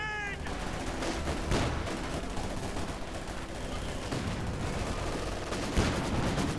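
A Maxim machine gun fires in the strategy game Company of Heroes 2, with rapid bursts blending into a dense wall of battle noise, explosions and mortar hits that runs throughout.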